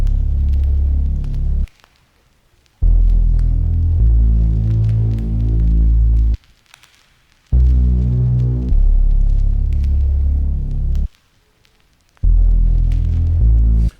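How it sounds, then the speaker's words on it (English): A deep bass one-shot from a sample kit in an Afrobeats beat, playing as long sustained booming low notes in phrases separated by brief silent gaps, loud and alone. "I added this bass sound."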